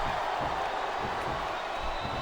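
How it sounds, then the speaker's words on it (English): Crowd noise from the arena audience in the wrestling video game WWE SmackDown vs RAW 2007, Batista vs Kane, a steady broad roar that fills the whole short stretch with no clear break. "I think these superstars are getting some feedback from the crowd, JR"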